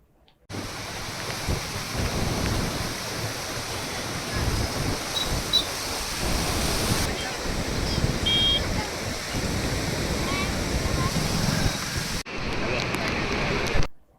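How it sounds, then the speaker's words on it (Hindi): Heavy, pounding rain from a mini cyclone over Mendarda in Junagadh, Gujarat, roars as a dense, unbroken wash of noise that stays loud and steady throughout, briefly cutting off near the end. "मिनी चक्रवात के साथ धुआंधार बरसात बरस रही है"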